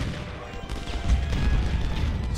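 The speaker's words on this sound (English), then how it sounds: "There go their cannons." Cannons fire in Ultimate General: Civil War, a game battle at a river crossing, producing a dense rumble of distant overlapping booms and crackling volleys that swells toward the middle and stays loud.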